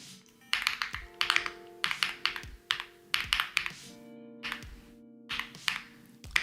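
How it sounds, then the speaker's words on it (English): Computer keyboard typing heard up close: quick bursts of clicky key taps in irregular clusters separated by brief pauses, with a faint musical tone sustained in the background. "let me show y'all my keyboard real quick"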